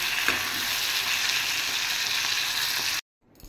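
Steady loud sizzling of a cooked boal fish head and eggplant curry reheating in a pan, continuous and close, then cutting off abruptly near the end.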